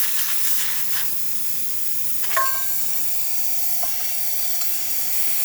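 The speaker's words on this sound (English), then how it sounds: "you can see, really good steam coming out of the machine." A La Pavoni lever espresso machine's steam wand sends out a strong, steady hiss of pressurized steam, continuous and close, with a brief hissing spurt partway through.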